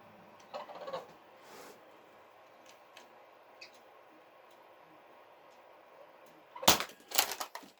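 An Air Warrior Stryker Force airsoft gun sits through a long stretch of quiet with faint ticks, then a sudden burst of several loud, sharp shots near the end.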